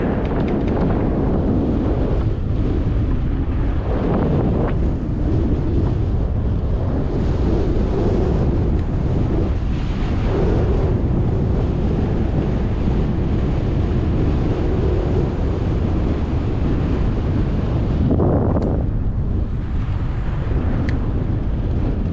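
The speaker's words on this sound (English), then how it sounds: "Got a bit of a headwind." Steady, loud wind roar buffets the microphone while cycling into a headwind on a road near Gainesville, Texas, continuous throughout with no speech.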